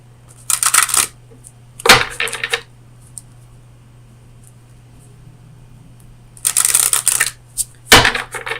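Oracle cards are shuffled in quick, crisp riffling bursts, close and fairly loud, separated by quiet pauses with occasional single taps as cards are handled and drawn.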